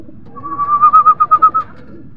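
A pigeon gives a single close, clear call that rises into a quick rhythmic series of pulsing coos lasting about a second, over a quiet background.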